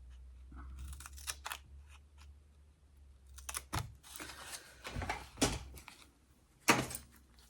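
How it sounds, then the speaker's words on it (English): Scissors snip mini foam dimensionals in half, a series of sharp, close, quiet clicks and cuts spaced irregularly over a faint low hum. "So I'm going to cut a whole load of dimensionals in half here."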